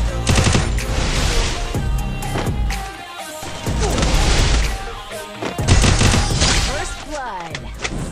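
Rapid bursts of automatic gunfire in the battle royale game Garena Free Fire during a one-versus-one match, loud and dense, with short pauses between volleys and clattering impacts.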